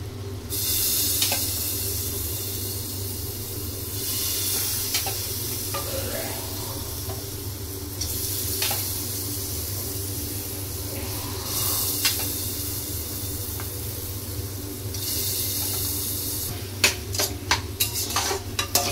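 Fried lentil dumplings (bori) stirred in a sizzling pan with bottle gourd, a continuous loud hiss and crackle overlaid with scraping spoon strokes, ending in a few sharp metallic clinks, with no speech.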